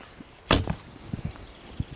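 A sharp snap and whoosh as an arrow is released from a laminated Tatar-style bow, one loud string crack followed by faint thuds and rattles, with no speech.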